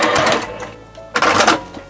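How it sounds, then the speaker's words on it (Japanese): A sewing machine stitching a tenugui cotton cloth bag, running in two short whirring bursts separated by a brief pause, close and fairly loud with no voices. "ちょっとこことここ2本ミシンかけとこうか。"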